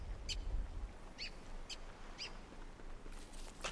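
Brief high chirps from a bird caught in a trap in Don't Starve Together, four or five short calls spaced apart over a low background hum.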